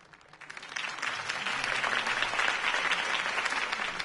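A crowd in a Batman video game applauds Harvey Dent's campaign speech, clapping swelling up from quiet within the first second into a full, steady roar of applause that holds to the end.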